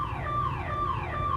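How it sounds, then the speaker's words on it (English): A store's security system alarm siren wails in repeated falling sweeps, about three cycles in quick succession, moderately distant and steady. "You'll hear like the siren go off and then it'll say system alarm, system alarm."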